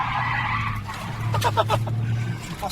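An RC car drifts with its tires skidding and squealing against the surface, a loud continuous screech with rapid pulsing bursts, heard up close with no talk.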